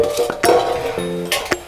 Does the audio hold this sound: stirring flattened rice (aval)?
yes